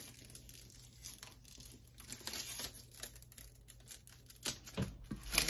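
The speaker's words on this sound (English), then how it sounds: "let's just go ahead and take the plastic from around the lights" Thin plastic wrap crinkles and tears as it is peeled from the lights of a Lurella Cosmetics vanity mirror, a quiet, close, continuous rustling with small crackles and no talk.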